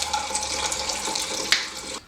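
Hot tap water runs into a sink while glass preserving jars are rinsed, a steady soft splashing stream with a small clink partway through before the flow stops.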